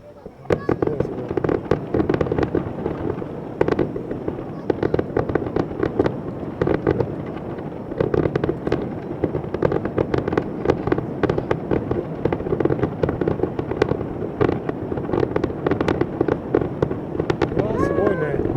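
Fireworks over the sea at Ajiro Onsen, a rapid barrage of booming bursts and crackles firing continuously, with people talking and exclaiming throughout.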